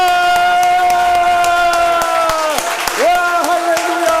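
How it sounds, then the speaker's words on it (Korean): A church congregation at a Sunday service claps steadily while loud, sustained cheering voices swell and dip over it, close and dense throughout. "우리 환호와 함께 뜨겁게 한번 박수하겠습니다."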